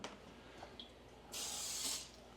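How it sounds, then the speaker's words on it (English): Cooking spray is sprayed onto a pan in a home kitchen, a single sharp hissing burst lasting about half a second, close and distinct against a quiet room with faint small clinks before it. "you'll want to spray your pan well, some pan spray"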